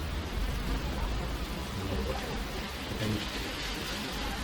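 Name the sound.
rain falling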